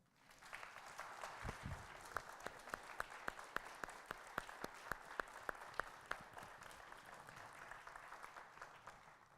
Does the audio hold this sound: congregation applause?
yes